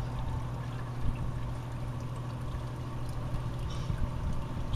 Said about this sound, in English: disturbing the surface of the water.